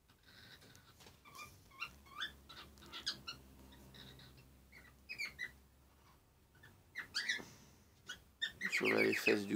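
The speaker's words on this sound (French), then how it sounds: "vous entendez aussi les oiseaux qui chantent" Birds sing outdoors in short scattered chirps and twittering phrases, faint and at some distance, ending in a louder burst of calls nearby.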